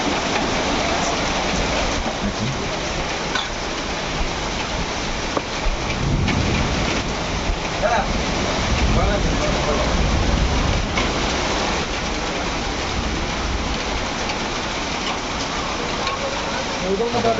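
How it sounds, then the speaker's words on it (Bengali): Heavy rain pours down in a dense, steady roar, with occasional low rumbles mixed into the constant hiss. "অঝোর ধারায় বৃষ্টি পড়ছে"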